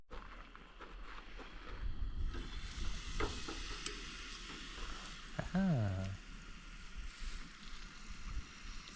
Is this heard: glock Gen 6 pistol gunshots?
no